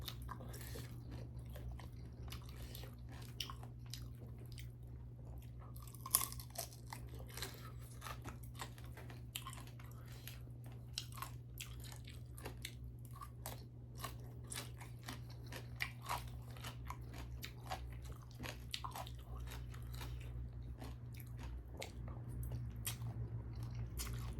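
Close, soft chewing and crunching of Thai papaya salad (som tam), scattered bites and clicks over a steady low hum, quiet and continuous with no talking.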